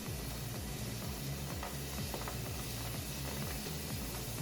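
Water sizzles steadily on hot freshly cast aluminum, a continuous hiss with faint crackling and a low rhythmic rumble beneath, close and unbroken throughout.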